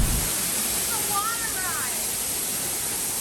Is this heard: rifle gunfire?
no